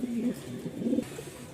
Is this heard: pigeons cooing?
yes